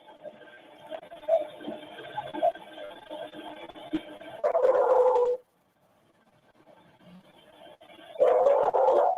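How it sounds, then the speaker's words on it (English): Dog barking in a recording: bursts of muffled barking and whimpering come through a faint, distorted playback, with loud, harsh stretches of barking around a sudden silent gap. "That's when the dog barking picks up again."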